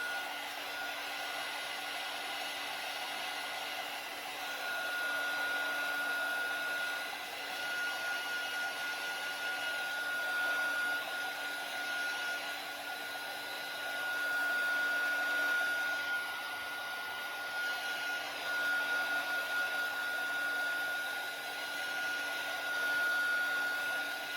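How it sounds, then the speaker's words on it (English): Small heat gun blowing steadily while drying stencil paste on a layered mesh stencil Christmas card holder, a continuous close whirring hum with a high tonal whine, lasting throughout with slight swells. "So I'm gonna use my little heat gun and just dry this really well."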